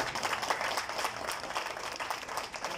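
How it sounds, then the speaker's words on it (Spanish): Audience applause at a press event announcing a motor festival, a brisk, even clatter of many hands clapping, moderately distant and somewhat faint, lasting a few seconds without speech. "pero un aplauso para ellos"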